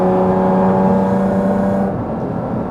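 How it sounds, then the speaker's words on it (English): A loud, steady Porsche Cayman GT4 RS flat-six induction drone heard from inside the cabin, with strong low harmonic tones, held under load before easing off slightly near the end; no voices. "leaving the window shut to hear this glorious induction sound."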